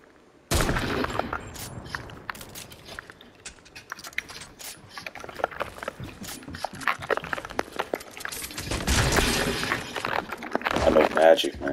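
Gunfire in Fortnite. Sharp shots and rattling bursts come in scattered clusters, with a denser flurry near the end, and voices talk over them throughout.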